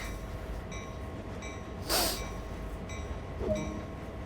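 A locomotive in Train Sim World 2 rumbles along at low volume, with a steady rolling drone, faint tonal hums and a couple of short hissing bursts, no talking.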